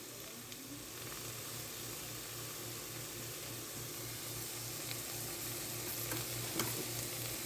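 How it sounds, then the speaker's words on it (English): Black bean and sweet potato casserole ingredients are stirred in a dish, giving a faint, steady soft scraping and a low sizzling hiss throughout, with no talk. "We'll stir that all together."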